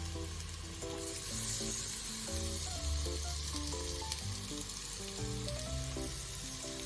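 Tomato and ginger-garlic paste frying in a pressure cooker for biryani, a steady close sizzle running beneath background music with melodic notes.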